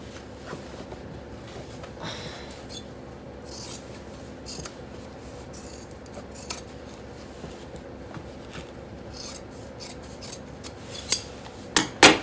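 Scissors cut through plaid flannel shirt fabric in a run of soft, scattered snips and rubs. Louder, sharper snips come near the end, with no talking.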